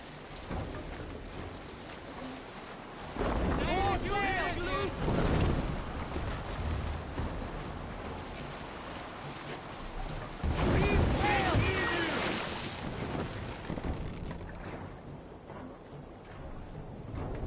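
Viking longship sailing in Assassin's Creed Valhalla: a continuous wash of water and waves against the hull with rain-like spray, swelling in two louder surges, while voices sing and call out over the sea.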